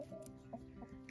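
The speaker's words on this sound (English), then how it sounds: "Here are the chickens on the homestead." Hens and a rooster on a homestead cluck steadily at close range, short soft calls overlapping in a loose, continuous rhythm.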